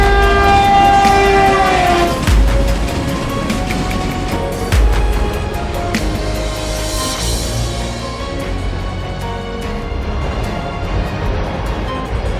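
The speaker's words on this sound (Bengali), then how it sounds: "দিনের বেলায় ট্রেনটি একটি সুন্দর পাহাড়ি অঞ্চল দিয়ে যাচ্ছিল।" Animated train rolling through hilly countryside by day, with loud continuous rail rumble and wagon clatter, a train horn sounding early, and a steady roar that fades slightly toward the end.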